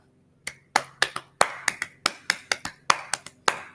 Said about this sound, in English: watch what happens when I clap